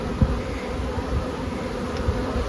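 Honey bees buzz steadily at a hive entrance with a guard bee checking arrivals, a dense close drone with occasional soft bumps and no talking.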